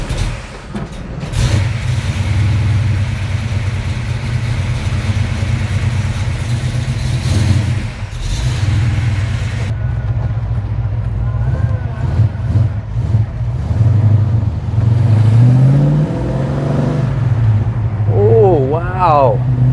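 A car converted to FiTech fuel injection pulling away smoothly on a test drive, its steady mid-pitched engine drone rising and shifting under a loud, continuous hum with road rumble.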